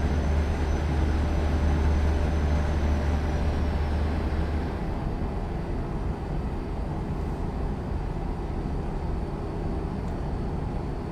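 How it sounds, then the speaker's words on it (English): In American Truck Simulator, a train rumbles past as a steady low roar. The deep rumble is heavy for the first few seconds, then eases to a fainter, continuous drone, with no talking. "There's a train somewhere."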